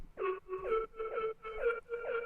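A Serum synth layer built from a custom FM shape with sync plays a short repeated phrase of five quiet, buzzy, vowel-like tones with a bending, wah-ish attack, alone without voices.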